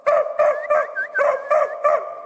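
A dog barks repeatedly in a steady rhythm, about seven loud, close, slightly howling barks in quick succession with no talk over them.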